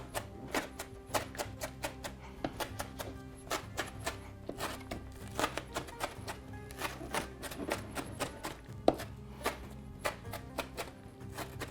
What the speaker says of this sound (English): Okay, so we've got some finely chopped green onions.